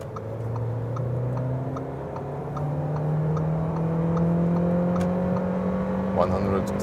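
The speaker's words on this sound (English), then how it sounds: "I will push down the throttle for a bigger acceleration now. Let's see what this engine will deliver." An Audi Q2 S-line SUV with a TFSI engine accelerates under full throttle, its engine tone climbing steadily in pitch from inside the cabin, with light ticking and a brief click near the end.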